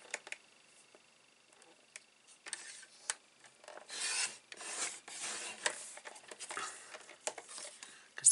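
A craft blade drawn through card while making a diamond top fold card, quiet scraping and rasping strokes with small ticks, faint at first and then a denser run of cutting.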